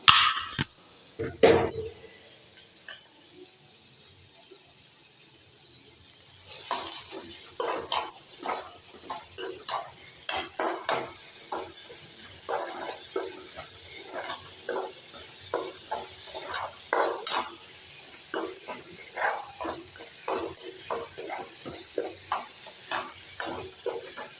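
Spinach stir-fry is stirred and sautéed in a pan with a soft sizzle and repeated utensil scrapes and clinks, close and fairly quiet, the stirring growing busier after a calm opening while a voice talks at times.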